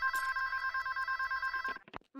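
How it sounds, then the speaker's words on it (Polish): A telephone ringing in the video game Boiling Point: Road to Hell, a steady rapid electronic trill that cuts off abruptly and is followed by a few short clicks. "Czekajcie, telefon dzwoni."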